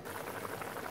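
A pot of sambar with greens bubbles and simmers continuously, a soft, steady burble of boiling liquid heard up close with no voices.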